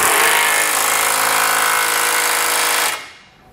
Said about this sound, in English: Now for the large 9/16 flange nut, you wanna grab either a 22 millimeter socket or a 7/8 socket,